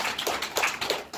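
A networking event audience claps in a round of applause for a director, a dense burst of many hands patting continuously for about a second at moderate loudness.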